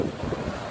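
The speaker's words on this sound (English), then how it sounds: "It's very windy, if you can tell," Strong wind buffets the microphone in a steady, roaring rush with no other sounds, at Coney Island.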